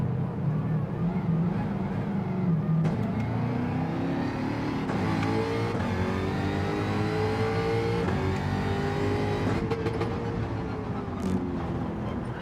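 Racing car engine in Gran Turismo 7, droning loudly and steadily, its pitch climbing and falling through gear changes and cornering, with brief thumps and a faint voice now and then.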